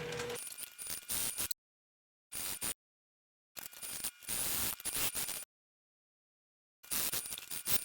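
A sewing machine back stitches the seam of a color block wristlet, its rapid mechanical whir coming in several close bursts separated by full silences.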